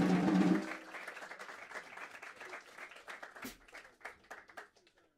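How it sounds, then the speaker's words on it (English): Jazz club audience applauding a drummer at Le Duc des Lombards in Paris, a dense burst of clapping at first that thins into scattered claps and fades out. "Y'all can clap for Gregory Hutchinson."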